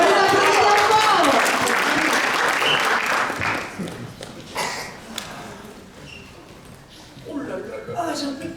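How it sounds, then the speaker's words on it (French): A theatre crowd at an improv match gives loud, dense applause mixed with cheers that gradually thins into scattered clapping, with voices talking over the fading tail. "On l'applaudit fort!"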